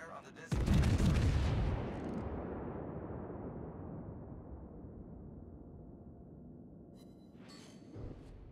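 Naval artillery salvo in the warship game World of Warships, one heavy booming blast followed by a long rumbling decay that fades over several seconds, with a faint later crackle near the end.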